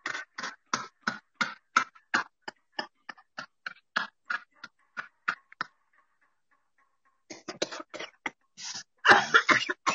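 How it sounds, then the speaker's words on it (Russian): During a laughter-yoga breathing exercise, a rapid series of sharp, forceful coughs and throat-clearing bursts sounds close, breaks into a brief pause, then resumes and ends in a louder, rougher cough. "Вот если вы откашливаетесь, если вы чувствуете, что выходит мокрота, это вот просто замечательно."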